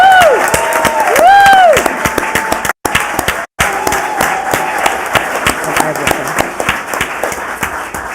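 An audience at a city council meeting cheers and applauds, a steady wash of clapping with whoops and shouts, loud in the room and running on for several seconds.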